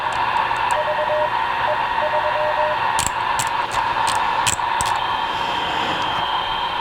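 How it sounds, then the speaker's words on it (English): A radio receiver on a quick check picks up digital signals and Morse code over a steady hiss of static, with a faint tone early on and a burst of short bright beeps in the middle, loud and continuous. "Some digital stuff and some Morse."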